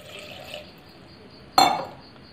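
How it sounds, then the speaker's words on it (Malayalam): Half a glass of water splashes into a pressure cooker holding half a kilo of taro. It comes as one short, fairly loud gush alone in a quiet kitchen. "ആ കുക്കറിലേക്ക് 1/2 kg ചേമ്പ് നമ്മളിടുന്നു. ഇത് വേവിക്കാൻ ആവശ്യമായിട്ടുള്ള 1/2 glass വെള്ളം ഒഴിക്കുന്നു"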